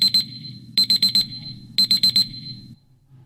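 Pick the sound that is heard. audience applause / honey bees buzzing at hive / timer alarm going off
timer alarm going off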